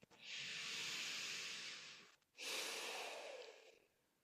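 Two slow, natural breaths during a yoga practice, a long airy exhale followed by another inhale-exhale, close and soft with no other sound.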